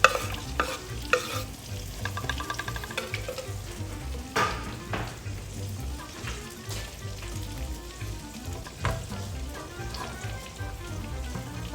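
Onions sizzle and crackle in a little oil in a pan while a utensil stirs and scrapes them, with steady frying hiss and occasional louder clinks and scrapes throughout; no one speaks.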